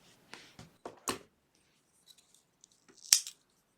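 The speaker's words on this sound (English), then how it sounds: "cut this yarn." Scissors cut crochet yarn while fastening off a ribbed leg warmer: a few soft, close snips, then one sharp, crisp snip near the end, with quiet pauses between.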